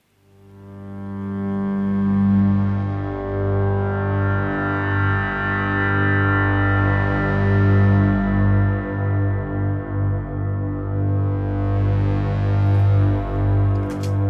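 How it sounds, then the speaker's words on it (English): A sustained, heavy synth pad drone with deep bass and two notes an octave apart, swelling slowly with echoing, chorused shimmer throughout, from the Modern Ruins Pad 2 patch. "I thought I'd just start with that heavy bass-centered drone"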